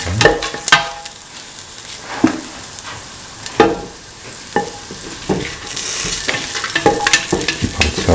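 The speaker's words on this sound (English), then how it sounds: "Keep on sauteing." Garlic sautéing in a pan for mint tomato rice, with repeated sharp scrapes and knocks of a spoon stirring over a soft, continuous sizzle, the loud strokes coming every second or so.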